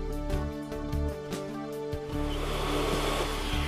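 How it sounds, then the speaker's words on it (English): A hot air welder heat-sealing a Resitrix roofing membrane corner patch on a roof, a steady close blowing hiss with a droning tone and brief scraping pulses. "Heat weld the Resitrix corner patch."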